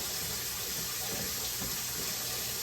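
Water pours steadily into a pot of ground beef stew, a continuous hissing, splashing rush that stays at an even level throughout without any talk.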